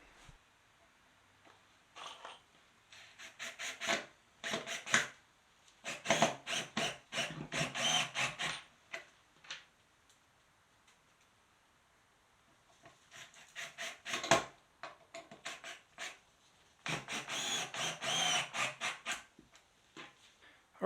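Small wooden blocks take screws from a power driver while a smokeless fire pit heat deflector is being built, giving several short whirring bursts of a second or two each, some longer, with quiet gaps between them, close by and with no talking.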